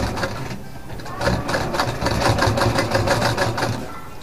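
A sewing machine stitches ladies' pants in a continuous rapid clatter, close and loud, running steadily throughout without pauses or talking.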